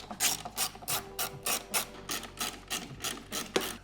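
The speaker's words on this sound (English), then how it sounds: "using the 1/4-inch ratchet, remove those" A 1/4-inch ratchet backing out T25 self-tapping screws from truck running boards, a close run of rhythmic clicking ratchet strokes, about a dozen evenly spaced bursts, moderately quiet.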